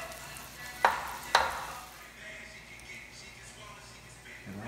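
Banana pieces frying in a pan make a soft, steady sizzle, broken early by two sharp utensil knocks against the pan.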